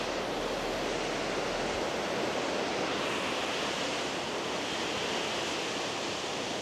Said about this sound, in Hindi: ये है बस वाटरफॉल